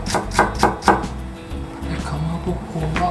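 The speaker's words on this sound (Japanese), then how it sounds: "で生姜は千切りです。" Ginger is sliced into julienne strips on a cutting board, with a knife landing in a few sharp, evenly spaced chops. Softer cutting and faint kitchen movement follow.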